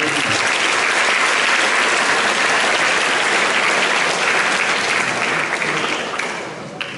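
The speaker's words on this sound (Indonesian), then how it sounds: "Tepuk tangan untuk kita" Loud, sustained applause from a crowd at a seminary school assembly during a governor's visit, filling the whole stretch before easing off slightly at the end.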